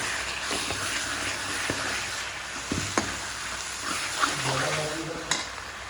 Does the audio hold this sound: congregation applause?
no